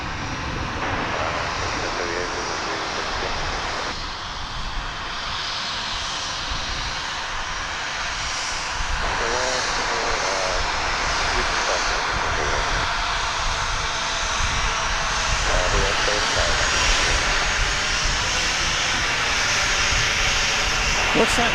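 An American Airlines jet at DFW Airport gives off a continuous rumbling engine roar that swells in stages, loud and sustained, while someone talks over it at times.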